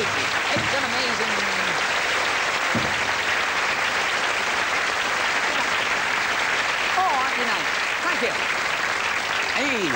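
A studio audience claps after a magic trick on a television variety show, sustained applause running throughout while someone talks over it.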